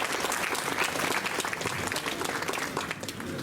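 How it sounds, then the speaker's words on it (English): An audience claps steadily and loudly throughout at a university Independence Day awards ceremony, a dense, even wash of applause with no break. "Big round of applause to Dr. Aditya Sharma."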